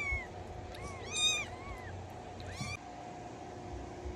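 Several small kittens mew in short, high, rising and falling calls, one bright cluster then a pair a moment later, close by over a steady low background hum.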